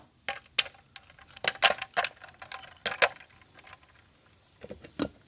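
Ice cubes dropped into a blender jar while making a mango leaf drink: several sharp, close clattering knocks in small clusters, fairly quiet, with brief pauses between drops.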